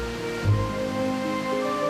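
Water of the Grand Cascade fountain at Peterhof, with its gilded Samson fountain, sounds as a steady broad rush and splash, continuous and fairly close, with a brief low thump early on and no talk.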